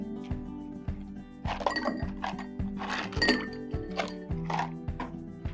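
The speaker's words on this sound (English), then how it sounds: "So let's put some of our ice cubes in here." Ice cubes clink and tap into a glass one after another, bright irregular clinks over a steady low rhythmic background.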